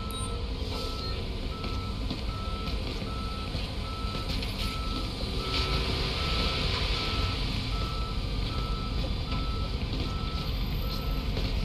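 In the Police Simulator: Patrol Officers game, a tow truck reverses with a steady, evenly spaced electronic beeping over a constant engine rumble, continuous throughout with no talk.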